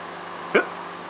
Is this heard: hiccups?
yes